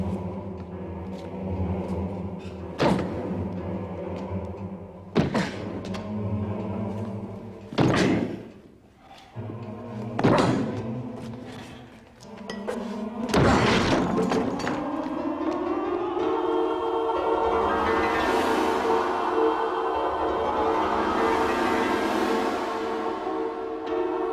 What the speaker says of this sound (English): This door must be broken open immediately.